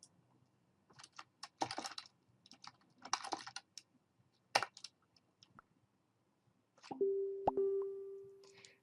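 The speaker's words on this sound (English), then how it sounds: "I was just randomly typing, hey Ben" A computer keyboard is typed on in scattered quick bursts of light clicks, fairly quiet and close. A steady electronic beep tone follows near the end.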